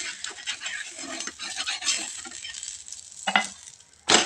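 A methi thalipeeth flatbread is flipped on a hot pan and sizzles close by, with scraping spatula strokes, a crackling hiss and a sharper clink near the end.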